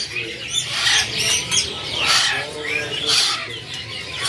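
Hand-fed mynah chicks calling at the Pramuka bird market, with repeated harsh squawks and chirps rising and falling in bursts, close by amid a busy background of other birds.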